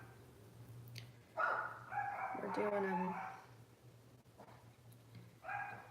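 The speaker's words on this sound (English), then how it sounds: "I'm sorry my dogs are barking in the background." Dogs bark in short bursts in the background of a home setting, with someone talking over them and a steady low hum underneath.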